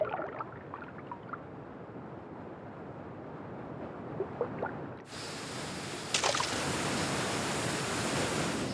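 River rapids give a constant broad rush of water that starts softer and distant, then jumps to a louder, fuller roar partway through, with no voices.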